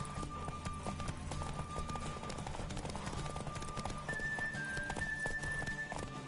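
Horse hooves gallop in a steady, rapid clip-clop rhythm in The Witcher 3, close and continuous, with sustained game music tones layered over the running.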